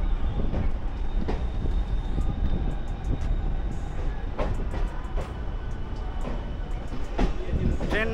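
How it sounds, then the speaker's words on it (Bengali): A decorated special train, number 37259, slowly pulls out of Howrah station, rolling and rumbling with intermittent clanks and a faint wheel squeal. Voices of a station crowd are heard in the background. "আর ট্রেন কিন্তু হাওড়া স্টেশন ছেড়ে দিল।"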